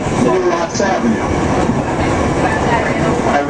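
An MTA R142 subway train on the 4 line rides through toward Atlantic Avenue-Barclays Center, a loud continuous rumble of wheels and rails with faint clatter, heard from inside the car.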